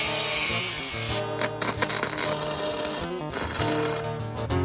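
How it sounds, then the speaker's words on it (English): A power tool cuts small steel angle pieces in half for a motion sim frame, a loud continuous grinding and cutting noise with brief dips and surges. "So I got to cut these little angles in half."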